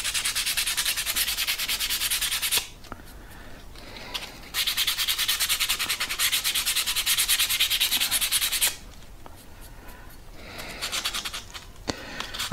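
Glossy surfaces being sanded off motorcycle brake pads from a Royal Enfield Himalayan make a close, rapid scratchy rubbing in bursts, with brief pauses between strokes.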